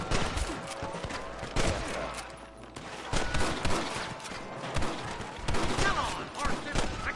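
Repeated gunshots ring out in a Red Dead Redemption shootout, loud dense bursts of fire with character voices shouting over the battle.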